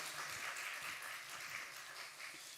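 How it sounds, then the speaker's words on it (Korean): A church congregation claps steadily during a Sunday service scholarship presentation, a dense, sustained round of applause from a crowd, fairly distant and even for the whole stretch. "뒤돌아서 인사할 때 우리 축복의 박수 크게 쳐주시면 좋겠습니다"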